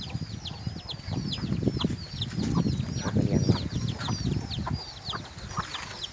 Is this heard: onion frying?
no